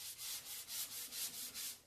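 Annie Sloan wax is rubbed onto a furniture piece with a cloth in about eight quick, regular back-and-forth strokes, each a soft close-up swish, with no voice over them.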